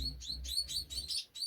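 Chestnut-breasted mannikins give a rapid series of thin, high chirps, about six in quick succession, close and fairly soft over a low background rumble.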